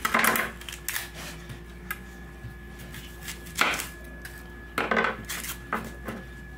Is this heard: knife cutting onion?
yes